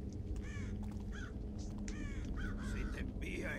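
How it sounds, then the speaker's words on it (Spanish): Crows cawing in the stealth video game Thief, several harsh repeated caws in irregular bursts over a faint ambient background. "Hay pájaros también, que de eso no me he dado yo cuenta."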